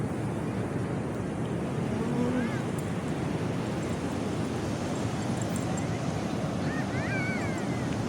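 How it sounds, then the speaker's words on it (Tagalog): Sea waves on a beach roll in as a continuous broadband roar mixed with wind buffeting the microphone. Faint high chirps come through in the background. "Sarap ng alon ng dagat."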